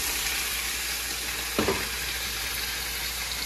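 Pork shoulder sizzles with garlic and onion in a pan for kinamatisang baboy, a constant close frying hiss broken once by a short stirring knock.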